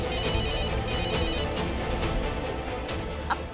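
An incoming-call phone ringtone chimes in repeated bursts over background noise, moderately loud and continuous for a few seconds with no talking.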